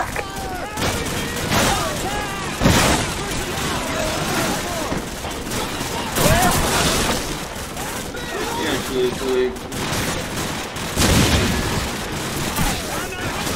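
Machine gun fire in the Call of Duty 4 demo, sustained bursts and heavy crackling volleys filling the scene, with voices shouting orders over the shooting.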